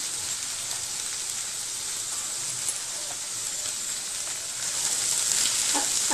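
A spiced pea filling with cumin powder, coriander powder and salt fries in a pan for matar paratha, giving a steady, dense hiss like rain that swells slightly louder near the end; no one speaks.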